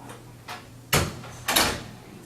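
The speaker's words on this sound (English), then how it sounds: "Close this door." A door in a meeting room is shut, giving a soft knock and then two sharp, fairly close thuds in quick succession against a quiet background.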